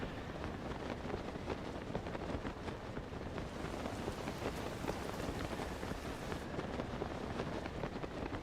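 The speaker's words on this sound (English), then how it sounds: "Yeah, you can hear the rain for a second there." Steady rain in Zelda: Tears of the Kingdom, a dense, even hiss of drops falling on surfaces that persists throughout at moderate volume with no voices.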